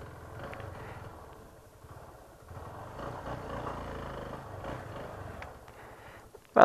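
A parked motorcycle engine idles with a low, steady rumble at a hilltop lookout in Formiga, Minas Gerais, running alone at moderate loudness until a sharp bump at the very end.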